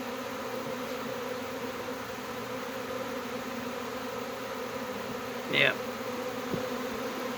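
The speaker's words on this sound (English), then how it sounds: "it's going to be a big hive of bees" A big swarm of honey bees hums in a steady, dense drone that fills the whole stretch, with one short louder whirr of a bee passing close; a single brief word is spoken.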